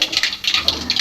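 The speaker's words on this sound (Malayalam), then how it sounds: "കടുക് പൊട്ടി" Sharp, crackling pops burst repeatedly from hot oil as mustard seeds splutter, close and fairly loud over about a second.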